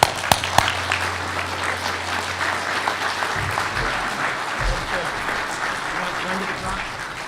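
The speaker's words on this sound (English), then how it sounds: "I'm gonna give y'all a round of applause" Steady audience applause fills a town hall meeting about Agent Orange, opening with a few sharp nearby claps before settling into continuous clapping.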